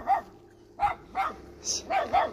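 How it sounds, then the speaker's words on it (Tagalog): A dog barks several times in short, sharp bursts close by, with uneven gaps between them, against a quiet background and a brief voice. "May aso."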